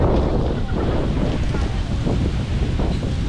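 Strong wind gusts buffet the microphone on a beach at Lobo, Batangas, a loud continuous rumble and roar that blends with nearby surf and masks faint voices underneath.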